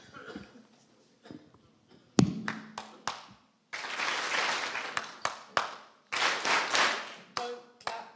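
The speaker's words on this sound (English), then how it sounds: "don't clap this one back. And if you do clap it, you're out." Group hand clapping in a clap-back game with a youth team in Sierra Leone: a sharp single clap followed by several loud, rhythmic volleys of many hands, with short pauses between the bursts.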